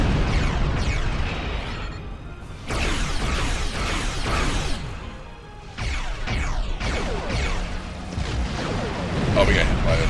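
Explosions in the space game Star Trek Online boom and rumble in repeated bursts with crackling debris, loud and close, layered among other game effects.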